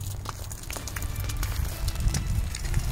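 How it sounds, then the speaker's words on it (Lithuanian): Autumn field burning in a Lithuanian countryside, fire crackling steadily in dry vegetation with a low rumble and wind buffeting the microphone. "Eina šiek tiek ugnis."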